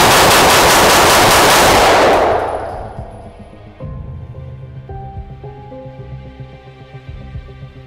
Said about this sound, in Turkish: Bir şarjörü boşaltıyorum.